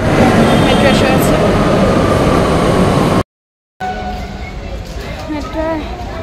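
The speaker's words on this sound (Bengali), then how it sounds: "মেট্রো এসে আছে।" A metro train pulling into a station: a loud, broad rumbling roar, a brief cut to silence, then softer station noise with voices talking over it.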